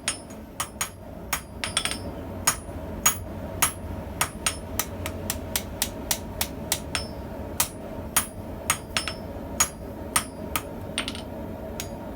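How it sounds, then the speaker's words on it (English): Repeated blows from a YK30 steel hammer on hot steel while forging an anvil hardy, sharp ringing strikes at an uneven pace, close and loud over a low steady background rumble. "my YK30 steel hammer helps me move this hot steel just a little quicker"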